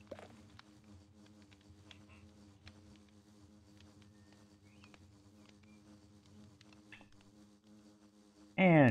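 A bee buzzing near a hive in Minecraft, a quiet steady drone with small ticking game clicks, ending in a sudden loud burst of game sound.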